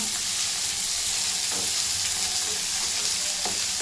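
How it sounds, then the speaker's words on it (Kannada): Curry leaves and chopped onion fry loudly and steadily in a hot oiled pan, a dense, continuous sizzle close up, with faint stirring scrapes and no talking. "ಕರ್ಬೇವಿನ ಸೊಪ್ಪು ಹಾಕಿ ಆಮೇಲೆ ಈರುಳ್ಳಿ ಹಾಕ್ತಾಯಿದ್ದೀನಿ."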